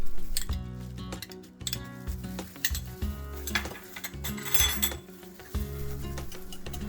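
A whisk or utensil clinks rhythmically against a bowl, mixing a souvlaki marinade of oregano, paprika, ground clove and minced garlic. The taps are steady and close, with brief pauses.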